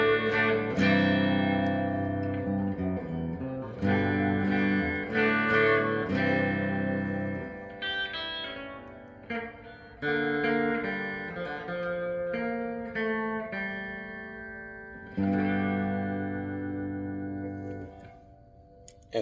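An electric guitar's bridge pickup through a 68 reissue Fender Twin Reverb tube amp, on a 2024 Gibson Les Paul Modern Studio, with a bright, twangy amplified tone playing chords and single notes, ringing out with pauses between phrases.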